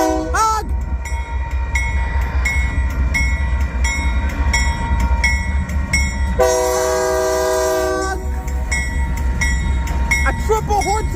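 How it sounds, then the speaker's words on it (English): Union Pacific locomotive horn sounding a triple salute, a loud sustained chord blast standing out over the steady rumble and rolling clatter of a passing train, close by. "A triple horn salute again."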